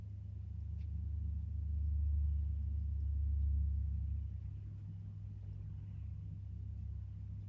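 An earth-moving machine's engine runs at a distance, a low steady rumble that swells and eases slightly, with no talking.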